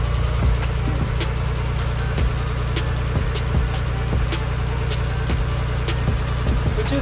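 A Nissan 300ZX Z32 with a freshly installed twin-turbo VG30DETT engine idles steadily just after its first start, with a constant low drone and sharp periodic ticks throughout, no talking.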